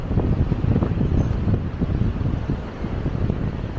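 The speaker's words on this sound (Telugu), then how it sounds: "అంత ఎక్కువ బ్రీజ్ ఉంది, డ్రోన్ ఎగరేసే ఛాన్సే లేదు. ఇక్కడ గాలికి ఎటో ఎగిరిపోద్ది, అంత విండ్ ఉన్నది." Loud, buffeting wind at Guhagar Beach rumbling into the microphone, a constant low roar with gusty fluctuations and no voices.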